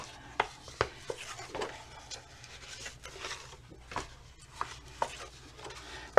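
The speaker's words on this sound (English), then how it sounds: "basically I just start folding back and forth like an accordion fold" Paper album hinge folded back and forth in an accordion pattern, giving a series of soft, close crinkling clicks at an irregular rhythm, with no voices.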